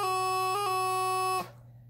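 A sustained reedy note on a bagpipe practice chanter, an F doubling, with a drone-like hum, broken by quick grace-note flicks before it stops abruptly and fades.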